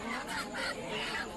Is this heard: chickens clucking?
yes